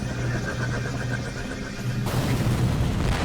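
A heavy explosion in Skibidi Toilet bursts in partway through, a sudden booming blast over a steady rumbling background that keeps roaring loudly afterward.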